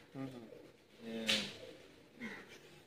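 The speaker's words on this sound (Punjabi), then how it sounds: "ਇਹ ਡੱਬ ਵਾਲੇ ਸਾਡੇ ਬੜੇ ਅੱਛੇ ਕਬੂਤਰ ਨੇ" Tested racing pigeons coo softly in a few short, low, rounded calls spread across the moment, faint and close.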